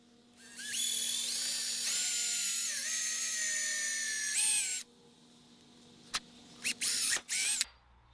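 A drill whines at a steady high pitch for about four seconds while it slowly bores a hole through a workpiece for an on-board shower system, then stops. Several short bursts follow, with no talking.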